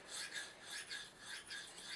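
A knife edge is polished freehand on a fine sharpening stone, with soft, rhythmic back-and-forth rasping strokes, about four passes in two seconds, faint and close.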